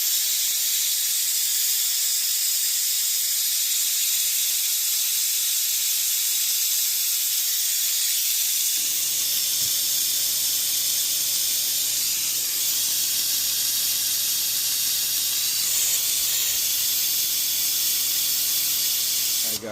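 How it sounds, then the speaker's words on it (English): An air compressor runs steadily during a brake job. A loud, constant broadband hiss fills the whole stretch, and a lower motor hum joins it partway through and continues to the end. "Hopefully this compressor isn't too loud where you can't hear me"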